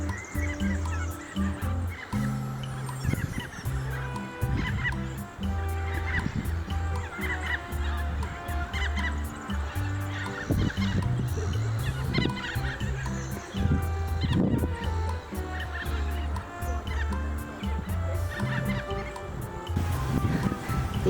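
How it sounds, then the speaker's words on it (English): Australian wood ducks honking in repeated short nasal calls over a steady low background hum, with other waterbirds nearby and a faint voice at times. "These Australian wood ducks marched past in very stately procession"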